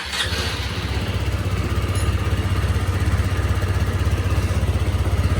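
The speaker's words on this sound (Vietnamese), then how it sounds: "Để mình nổ máy cho anh em nghe nha" A rebuilt Honda SH 150i scooter engine idles steadily and close by at night, a smooth even motor hum with a fast regular pulse and no talk over it.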